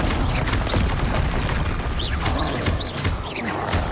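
Confringo blasting spells going off in Hogwarts Legacy, a dense run of booming, crackling blasts with swishing spell effects layered over constant loud game noise, no pauses between hits.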